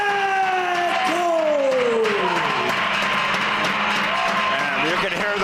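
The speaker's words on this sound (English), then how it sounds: "And you can hear the crowd." Wrestling arena crowd at a live pro wrestling event, a steady roar of cheering that continues without a break while an announcer's voice rises and falls over it.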